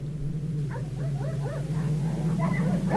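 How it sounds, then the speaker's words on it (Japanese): Sled dogs on an icy frozen sea bark and yelp at a distance over a steady low hum, a loose cluster of calls growing slightly busier toward the end. "犬の声。"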